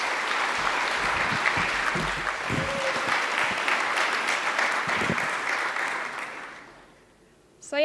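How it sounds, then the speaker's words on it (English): A room full of conference attendees at EuroPython 2018 lightning talks applauding, sustained clapping that holds steady and then fades away near the end. "Big round of applause."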